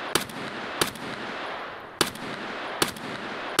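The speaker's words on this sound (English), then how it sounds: "I killed him by shooting him in the hand repeatedly." In the game Escape From Tarkov, guns fire in sharp, loud single shots spaced about a second apart, five distinct reports over a steady background hiss.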